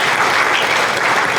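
A conference audience at a real estate convention claps in a thick, continuous wave of applause, loud and even across the brief moment with no talking over it.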